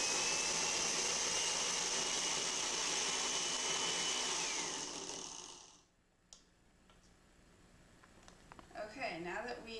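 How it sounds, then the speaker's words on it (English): A blender purees olive oil and basil leaves with a loud, steady whir for about five seconds, then cuts off abruptly, leaving faint clicks, a brief rattle and quiet talk at the end. "put the top on the blender, don't forget to do that. And you're going to puree it until it's smooth"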